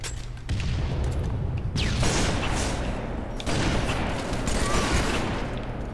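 Gunfire in a Halo multiplayer match, sniper shots cracking in dense, noisy bursts that fill the whole stretch, with brief drop-offs between volleys and no talking.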